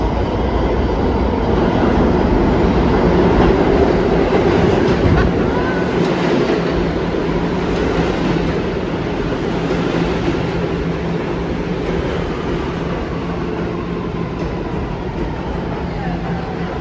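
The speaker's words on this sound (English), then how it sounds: "a downtown A train was approaching" A downtown A train on the New York subway approaches along the platform, a loud sustained rumble and rattle of wheels on rails with faint clatter, steady and close for the whole stretch.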